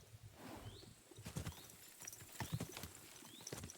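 Horse hooves clip-clopping in the medieval video game Kingdom Come: Deliverance II, an uneven run of quiet, close hoofbeats with faint background game ambience and no talk.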